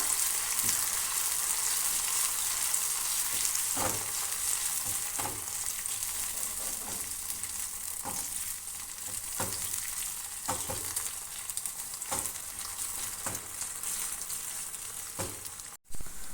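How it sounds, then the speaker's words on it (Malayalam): Green chillies and curry leaves crackle in hot oil for a Kerala-style beef pickle, a continuous bright sizzle punctuated by periodic stirring scrapes roughly every second or so, with no talk. "പച്ചമുളകും കറിവേപ്പിലയും നന്നായി ഫ്രൈ ആയി വന്നിട്ടുണ്ട്"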